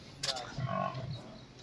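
Murrah buffalo on a dairy farm give a single low, moaning moo, close and moderately loud, set against faint farmyard background noise.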